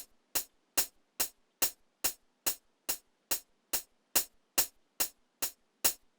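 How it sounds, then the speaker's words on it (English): Crisp, bright hi-hat hits from a jazz beat made in FL Studio repeat in an even, steady rhythm, about two per second, each short and sharp with a quick decay, played alone. "we got the hi-hat that sounds like this"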